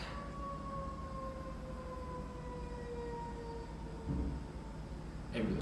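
An ambulance siren passes at a distance outdoors, its wailing tone sliding slowly downward over a low rumble of traffic before a brief clatter near the end.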